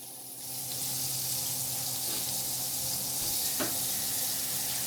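Liver and onions sizzle and crackle steadily in a frying pan, a dense hiss that rises after a quiet start and holds close and fairly loud, with a few scraping stirs and no talking.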